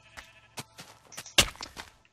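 Sheep in a video game give a few short, separate bleats against a quiet background, with one louder bleat near the middle and no talking.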